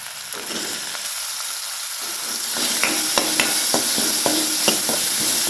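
Washed potatoes drop into a hot pan and sizzle, the frying hiss swelling louder midway, punctuated by clinking scrapes of a spatula stirring them with turmeric and salt.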